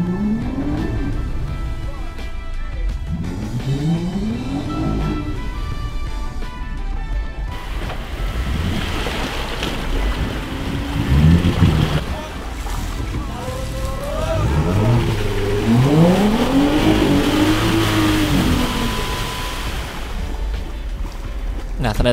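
A Pioneer jeep engine revs repeatedly during off-road driving, with rising and falling pitch sweeps and bursts of throttle across a constant rumbling background.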